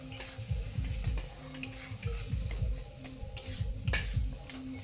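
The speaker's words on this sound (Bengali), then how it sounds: "দিয়ে একটু আলু দিয়ে মশলাটাকে কষাবো আলুর সঙ্গে।" Potatoes and a ground paste of chilli, garlic, onion and cumin are stirred in a pan, a utensil scraping in steady repeated strokes over a soft sizzle, close and alone without talk.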